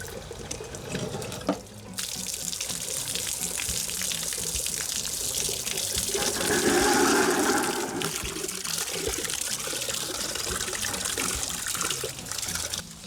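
Water gushes steadily from the drain of an RV water heater tank, a continuous loud splashing rush that swells briefly midway and runs throughout with no talking.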